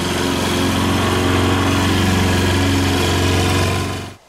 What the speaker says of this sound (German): Die hat sich nicht nehmen lassen, um den Rasenmäher gleich einmal zu testen.